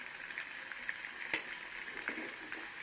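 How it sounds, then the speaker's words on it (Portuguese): Pork ribs fry over low heat in a cast iron pan, giving a quiet, steady sizzle with a few soft pops and one sharper crackle. "Vou deixar ela fritar aqui no fogo baixo para ela ficar bem por dentro."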